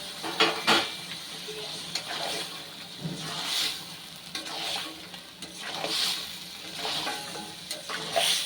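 Boiled mutton trotters go into a hot, frying spice paste, bringing a bursting sizzle and wet crackle, then repeated scraping stirs and spatula knocks against the pan.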